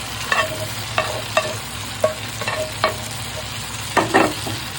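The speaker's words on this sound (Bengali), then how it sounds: "সিজলিং প্যানে সিজলিংটা সমানভাবে চতুর্দিকে দিয়ে দিব" A sizzler dish hisses on a hot sizzling plate layered thickly with onions, with a steady fry under repeated sharp scraping strokes of a spatula spreading it around, close and fairly loud.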